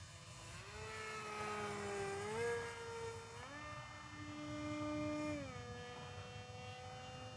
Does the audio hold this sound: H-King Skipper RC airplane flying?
yes